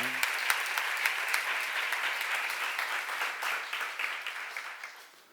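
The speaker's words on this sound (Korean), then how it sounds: "자, 박수 한번 쳐봐요." Church seminar audience applauding at a pastor's prompt, a steady broad wash of clapping at moderate level that tapers off toward the end.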